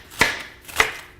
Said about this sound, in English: I'm actually chopping up my bok choy here.